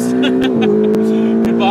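A Porsche Cayman GT4 passes close by on a track, its engine note sweeping under a steady drone from the camera car, with clicks and bursts of people talking throughout.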